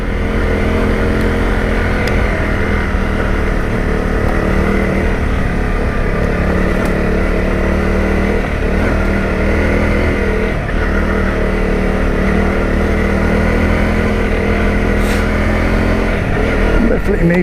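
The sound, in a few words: Honda CRF250 Rally motorcycle riding off road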